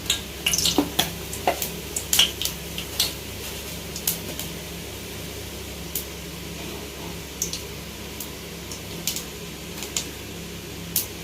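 Soft sizzle of fennel seeds frying in hot oil crackles steadily, with sharp pops and clicks of a spoon stirring in a pan scattered throughout, close by.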